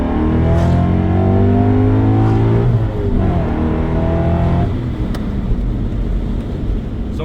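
A BMW M5 engine, the best model in the worst condition, revs hard at full power. It makes a loud, sustained rising roar with a shifting pitch and no talking over it.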